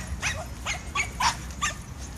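Several dogs bark in a loose series of about five sharp barks at an outdoor charity walk along a lake, moderately close over a steady background rumble.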